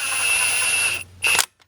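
An impact wrench with a 3/4 socket running carriage bolts up snug on a Wright Stander ZK mower during wheel motor replacement, giving a close, steady whine for about a second, then a short second burst.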